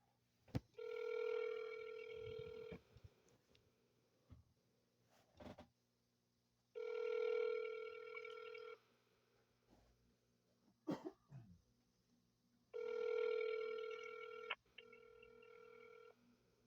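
A telephone rings three times in a recorded 911 call, each long electronic ring followed by silence, with faint coughs and rustles in the quiet gaps.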